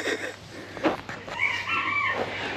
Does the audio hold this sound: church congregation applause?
no